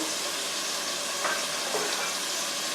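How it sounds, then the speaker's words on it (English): Tofu frying and browning in a pan for a vegan pot pie makes a dense, steady sizzle with a faint crackle, loud and close throughout with no talking. "So I'm going to stir it a little bit to make sure it's brown on all sides"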